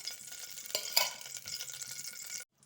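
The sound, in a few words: ghee heating and sizzling in a pressure cooker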